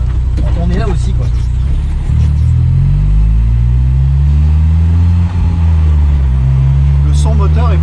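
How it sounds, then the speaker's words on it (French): A Peugeot turbocharged four-cylinder engine in a Secma F16 Turbo GT revs and climbs through gears, its droning pitch rising and dropping, with people talking over the loud interior rumble. "Le son moteur est plaisant. Hein. Oui, pour un 4 cylindres Peugeot, c'est pas mal quand même."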